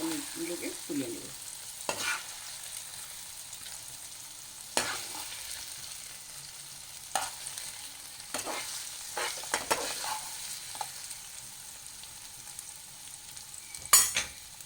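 Paneer pieces fry lightly in a pan, a soft steady sizzle broken by several sharp scraping stirs and clinks of the spatula, close and fairly quiet with no speech.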